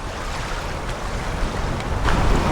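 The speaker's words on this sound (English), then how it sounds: "You can see the wind just pushing those little waves on shore." Wind blowing steadily across a lake shore as small waves wash in, a continuous breezy rush with soft lapping, no voices.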